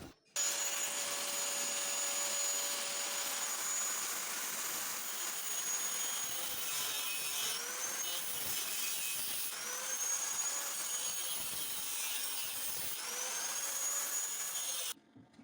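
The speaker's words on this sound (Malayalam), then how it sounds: "അപ്പോൾ നമുക്ക് 1:1 സ്ക്വയർ ട്യൂബ് അളവെടുത്തിട്ട് മുറിച്ച് സെറ്റ് ചെയ്യണം." A power saw grinds through 1x1 square steel tube during steel gate work, a loud continuous high whine and rasp that dips and wavers in pitch as the blade bites, running nearly the whole time before stopping abruptly.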